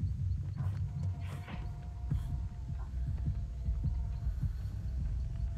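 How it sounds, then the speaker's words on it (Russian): A low, muffled heartbeat throbs steadily in the horror video game Dead by Daylight. Faint game ambience surrounds it and there is no talk. "А почему у меня есть сердцебиение есть?"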